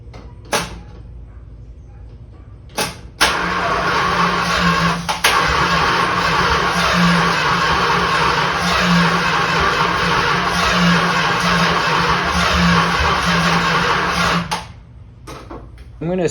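An abandoned 1970 Dodge Charger that sat for 39 years cranks and catches, then its engine roars loudly and steadily for about eleven seconds before cutting out, with clunks before and after.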